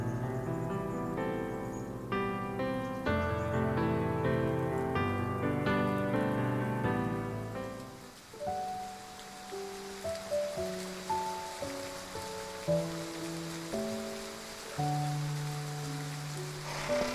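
Steady rain falls in a game scene, a soft continuous hiss of drops under prominent music, with a dense sheet of rain at first that thins as gentler melodic music carries on.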